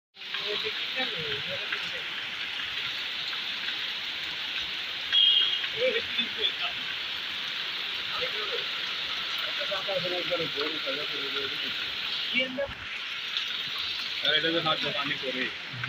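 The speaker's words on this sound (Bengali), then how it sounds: "এই যে বৃষ্টি হইতেছে কঠিন আকারে দোকানের সামনে।" Heavy rain pours down in front of a shop, making a dense, constant hiss that lasts throughout, with faint voices murmuring underneath.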